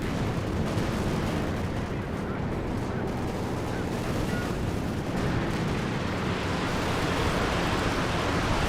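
A Panzerwerfer rocket artillery barrage in Company of Heroes 2 roars as a dense, continuous rumble of launches and blasts with no breaks, heavy wash of explosive noise, a voice faintly under it.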